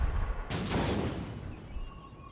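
Troops fire in the video game Empire: Total War (Darthmod, Prussian campaign) as a loud musket volley crashes out and then rolls away into a rumbling decay, with no talk over it.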